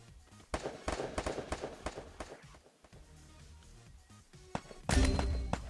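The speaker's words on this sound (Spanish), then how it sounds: "Vale, ya se escuchan los disparos." Gunfire in the Free Fire video game, with sharp bursts of shots early on, then quieter footsteps and taps, and a loud burst near the end.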